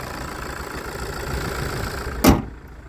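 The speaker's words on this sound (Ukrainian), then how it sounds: "Моторчик шепче." A Renault Scenic dCi diesel engine idles with a low, steady rumble, ending in a brief sharp knock or thud.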